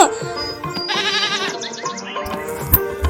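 A lamb bleats close by in a series of quavering, wavering calls over about three seconds, with a few lighter knocks and rustles around it.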